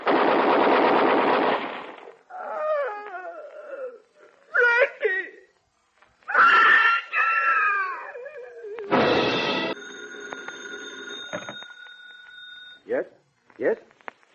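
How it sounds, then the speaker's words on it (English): Radio-drama thriller effect of machine-gun fire below a window, heard as loud bursts between shouting voices and cries, with a sustained tone later in the scene. "Below there, machine guns."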